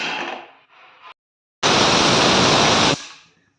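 A pressure cooker lets out a sharp, loud hiss of escaping steam lasting just over a second, preceded by quieter hissing bursts.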